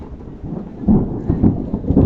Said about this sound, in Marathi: पाऊस थेंबडे थेंबडे गळायला लागलाय